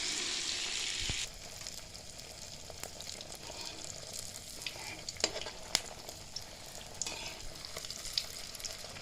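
Oil pitha frying in a pan on a gas stove gives a steady close hiss with scattered crackles and pops, the sizzle easing slightly after the first second and no one talking.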